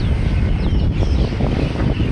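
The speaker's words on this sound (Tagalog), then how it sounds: "Uy, hangin!" Strong gusty wind blows outdoors ahead of expected rain, buffeting the microphone with a loud, continuous low rumble and rushing noise throughout.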